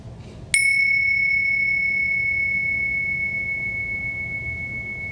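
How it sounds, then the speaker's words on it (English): A single bright bell strike rings out clearly and sustains, its pure tone slowly fading over several seconds in a quiet space. "I'll just ring some bells"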